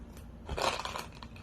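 A blade cutting into the wrapping of a 2021 Topps Allen & Ginter hobby trading card box, a brief quiet scraping crunch close by, with no talking.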